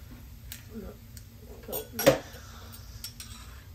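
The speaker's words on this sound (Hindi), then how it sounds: "उनके लिए हम एक अंडा तोड़ लेते हैं" A single sharp tap of an egg being cracked on a bowl rim for an omelette, one brief clatter standing out over quiet kitchen background noise, with faint dish and utensil clinks around it.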